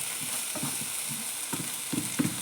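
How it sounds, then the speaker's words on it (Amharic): Garlic and red onion sauté in a pan with a soft, steady sizzle, punctuated by a few light scrapes and taps of a utensil stirring them. "ነጭ ሽንኩርት፣ ትንሽ ነጭ ሽንኩርትና ቀይ ሽንኩርት አድርጌ ነው የማቁላላው።"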